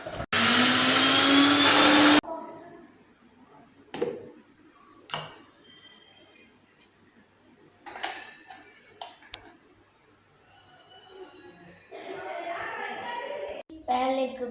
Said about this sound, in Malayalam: ഇനി ഇത് നമുക്ക് അരച്ചെടുക്കാം.